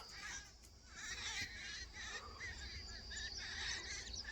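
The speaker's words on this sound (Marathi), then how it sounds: "पक्ष्यांचा किलबिलाट ऐकून इतकं भारी वाटतं" Birds, including mynas, chirping and twittering at a distance over a soft outdoor background hiss on a hot day, with a few brighter calls standing out.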